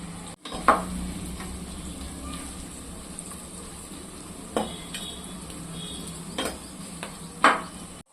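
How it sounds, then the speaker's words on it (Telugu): Onions fry in a clay pot for chicken biryani, a low steady sizzle punctuated by a few sharp clinks and scrapes of a spoon stirring against the vessel, with no talking. "మనకి సాల్ట్ వేసుకుంటే ఆనియన్స్ త్వరగా ఫ్రై అవుతాయి"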